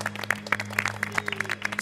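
Studio audience of a children's quiz show claps in quick, scattered bursts over a steady low hum, a short lively patter of applause.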